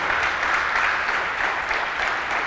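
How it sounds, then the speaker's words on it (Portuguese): Applause from a church congregation fills the space, a steady dense wash of clapping throughout with no voice over it. "Você pode dar um aplauso a Jesus?"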